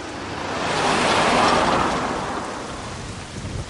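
Heavy warm monsoon rain pours down in India, a dense steady hiss that swells to a peak midway and eases off, with a low thunder rumble beneath and no voices.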